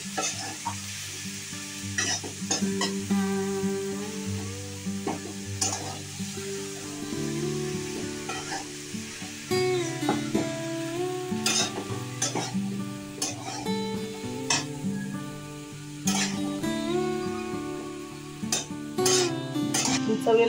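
Bhogi mixed vegetables sizzle in a pan while being stirred, with repeated scraping and clinking of a utensil against the metal over a continuous frying hiss, close and without speech.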